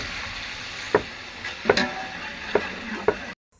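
Chopped onions are stirred into hot oil for mutton bagara rice, crackling under four or five sharp spoon scrapes against the pan, close and loud, before the sound cuts off abruptly, with no one speaking.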